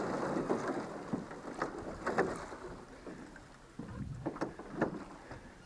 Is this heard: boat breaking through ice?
yes